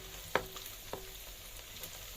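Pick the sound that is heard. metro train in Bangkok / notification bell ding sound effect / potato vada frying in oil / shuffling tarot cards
potato vada frying in oil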